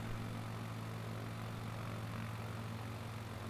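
Steady drone of a Cessna 421 twin-engine plane cruising in a flight simulator game, a constant low engine hum with propeller tones, loud and unbroken throughout with no talking.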